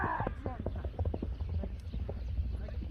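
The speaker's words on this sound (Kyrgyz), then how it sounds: "Күлүк ат экен, кетти, чабып эле кетти." A racehorse gallops off, its hoofbeats a quick rhythmic clip-clop close by and steady throughout, while people talk over it and a horse whinnies briefly at the start.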